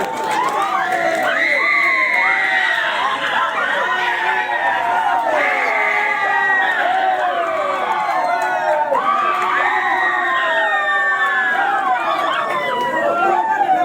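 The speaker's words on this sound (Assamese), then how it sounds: "দৰ্শকৰ তৰফৰ পৰা জোৰদাৰ হাত তালি" An audience at a dance competition prize-giving in a market setting cheers and shouts loudly and continuously, with many overlapping voices close by.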